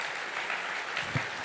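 A crowd at an alumni award ceremony claps for a jury's-favourite winner, dense and continuous applause at moderate volume with one slightly louder knock near the end.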